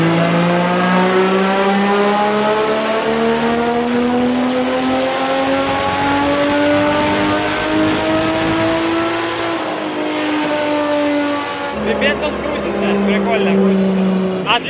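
A tuned Toyota 2JZ engine in a boosted car revs and accelerates, a loud steady rising drone with climbing pitch, then drops off and resumes near the end, with no clear talk over it.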